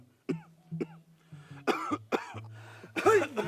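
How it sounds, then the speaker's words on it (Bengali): A person coughs repeatedly at close range, a series of short harsh coughs and throat clearing in irregular bursts, with no talk over them. "কথায় কথায় কাশি খালি,"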